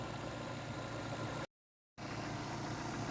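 1998 Opel Blazer DOHC engine idling, a steady low rumbling drone that cuts out abruptly for about half a second midway before resuming unchanged.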